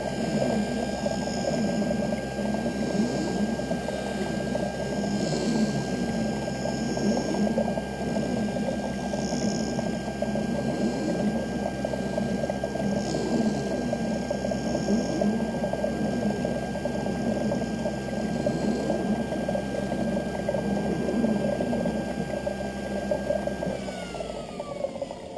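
A grooving machine preps a surface before cutting, giving a steady dense mechanical whir and churn with a constant whine running throughout, close and continuous, then a short drop in tone near the end.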